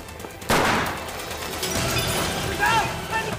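Gunfire in a wartime TV drama, a sharp burst followed by scattered shots mixed with music and background commotion, moderately loud, with people shouting in the scene.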